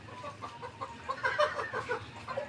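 Live chicken clucking in a short series of soft, rhythmic calls over a low background hum, fairly close and moderately quiet.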